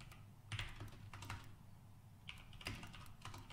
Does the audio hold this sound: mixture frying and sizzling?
no